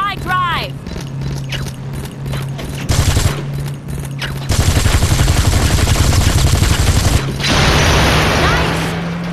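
Gunfire in the video game Gangstar Vegas, with rapid machine-gun bursts and shots over a constant engine drone, getting louder and denser partway through and continuing to the end.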